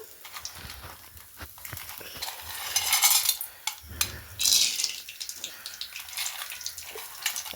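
Peanuts and dried chillies fry in coconut oil with a soft sizzle, broken by scraping stirs and metal clinks, plus a few louder hissing bursts.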